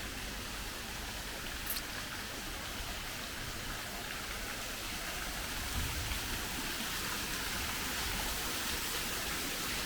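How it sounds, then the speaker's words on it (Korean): A steady wash of flowing water from resort garden water features hisses evenly and softly throughout with no pauses. "물소리가 많이 나서"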